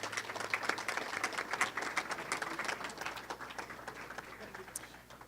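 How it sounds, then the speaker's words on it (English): Audience at an esports awards ceremony giving a round of applause for the winners, scattered hand claps that start lively, then thin out and fade over several seconds. "a round of applause for your winners"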